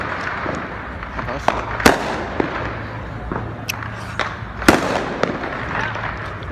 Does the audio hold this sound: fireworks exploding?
yes